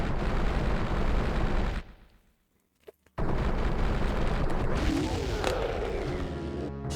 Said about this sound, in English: And it explodes.